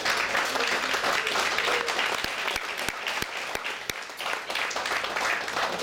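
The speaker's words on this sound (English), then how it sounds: "Let's give them another big round of applause." A crowd at a piping festival gives a warm round of applause to two pipers after a debut performance on a new B-flat ensemble chanter, with a few sharp, distinct claps standing out from the sustained clapping.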